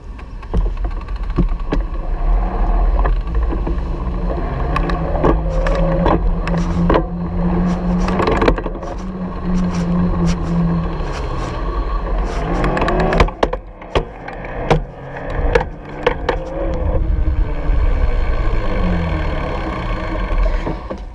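A Specialized Turbo Levo Comp Fat e-bike drivetrain whirs and clicks as gears shift during pedaling, with a rising and falling motor-like hum and sharp mechanical clunks, no talking.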